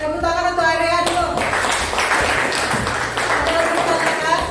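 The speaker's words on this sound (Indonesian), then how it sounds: "Tepuk tangan untuk area dulu." A classroom group claps together in steady applause that lasts the whole moment. A voice is heard briefly at the start.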